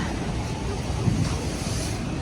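Stormy Black Sea surf at Odesa's Langeron beach during a storm, with waves crashing onto the shore under strong, continuous wind buffeting the microphone, loud and close.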